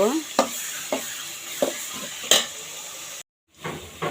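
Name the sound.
frying green chillies and onion in oil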